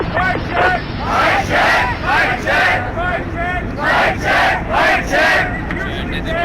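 Night-time street crowd cheering during a New York City raid, loud rhythmic bursts of shouting and chanting pulsing roughly every half second over a babble of voices.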